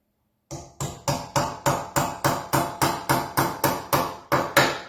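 A hammer drives a nail into a small DIY wooden birdhouse, about thirteen sharp, evenly spaced blows ringing out close and loud, the final strikes slightly heavier, with no talking.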